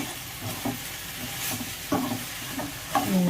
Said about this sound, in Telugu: 2 సెకండ్లు ఇట్లాగే కలుపుతూ దీన్ని మగ్గనిద్దాం అన్నమాట.